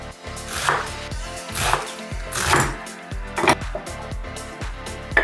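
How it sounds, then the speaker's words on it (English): A knife cuts food into slices on a wooden cutting board, making a series of fairly loud, close thuds and chops in an uneven rhythm, about one every half second. "We back to our board and we cut them into slices."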